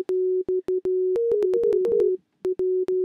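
A plain, pure sine-wave synth tone from Logic Pro 9 repeating in short beeps and sustained notes, with a brief wavering pitch run in the middle, clear and close.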